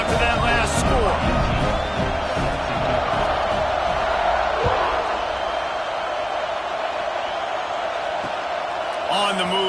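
Football stadium crowd buzzing with a steady, dense roar after a scoring drive, loud and continuous throughout, with a play-by-play commentator talking over it.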